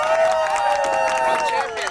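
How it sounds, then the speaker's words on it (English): A beach crowd at the Sintra Pro surfing contest applauds and cheers the winner, a steady, moderately loud wash of clapping and voices with a sustained tonal sound running through it. "I would like to call a big round of applause here."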